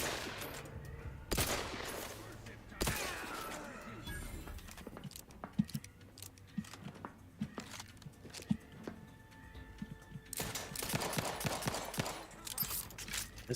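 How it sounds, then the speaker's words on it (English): Gunfire in the Outer Worlds 2 video game: scattered sharp shots and bursts at moderate distance, with two heavier clusters near the start and the end, amid game ambience and background voices. "I headshot this fool from here."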